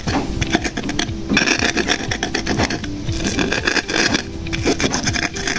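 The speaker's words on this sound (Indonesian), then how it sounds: "Nah, terus saatnya diulek-ulek. Kita ulek, guys." Ingredients for pempek cuko sauce are ground by hand in an Indonesian stone mortar and pestle (ulekan): loud, close, repeated rough scraping and rubbing strokes in an uneven rhythm, with brief pauses.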